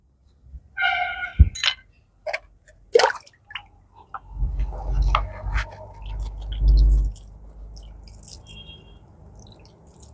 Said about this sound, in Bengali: একটুখানি জল দিয়ে দেব।